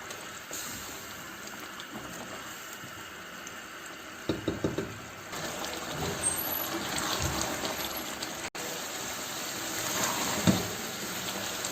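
Mutton and potato curry fries in oil in a pot with a steady, fairly quiet sizzle throughout, and a few light knocks of a utensil are heard partway through.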